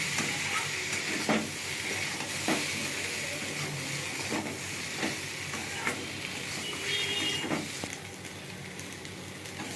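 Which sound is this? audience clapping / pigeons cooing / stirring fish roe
stirring fish roe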